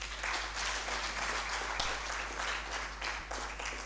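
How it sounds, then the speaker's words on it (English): A seminar audience gives dense, continuous applause in a room, steady many-handed clapping throughout with a few sharper claps, heard at moderate distance over a low hum. "I want to request that we give them a thunderous hand clap again."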